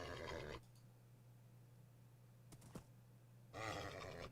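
Horse neighing in the video game Minecraft, two short whinny bursts at the start and end with a steady low tone in between and no talk.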